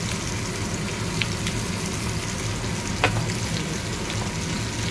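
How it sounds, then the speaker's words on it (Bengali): Spiced potatoes frying in hot oil give a steady, close sizzle with small pops and crackles throughout, with no voices. "যেহেতু মশলা আলু ভাজা হচ্ছে।"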